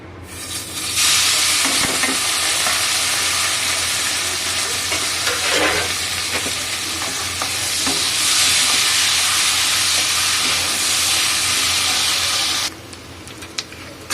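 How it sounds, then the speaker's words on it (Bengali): Onions frying in hot oil in a home kitchen pan, a loud, continuous close-up sizzle with intermittent stirring scrapes, which drops away abruptly near the end. "তো এখানে আমি আরও একটু অল্প করে তেল দিচ্ছি। এখানে পেঁয়াজ দিয়ে দিচ্ছি।"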